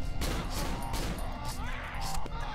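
A newly picked-up gun firing in the horror game Cry of Fear, a series of loud, close shots spaced roughly every half second, with a brief pause near the end.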